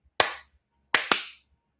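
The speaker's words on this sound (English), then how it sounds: "I don't trust anybody that claps like this." Three sharp, isolated hand claps ring out close up, one then a pause and a quick pair, each crisp with a short decay in near silence.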